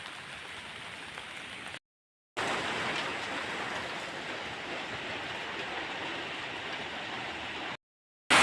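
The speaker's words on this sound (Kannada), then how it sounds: "ಬಂತು, ಮಳೆ ಬಂತು" Steady rain falling outdoors at dusk near a house, a dense continuous hiss that fills the clip at an even, fairly loud level, briefly cut out twice.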